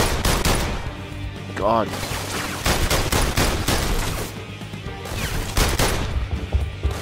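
Gunfire in the PlayStation VR Worlds game The London Heist comes as rapid bursts of shots, dense and loud throughout. A player briefly exclaims partway through.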